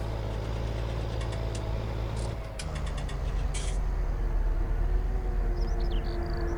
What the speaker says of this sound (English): It's a good tractor. I like it. I like the way it sounds.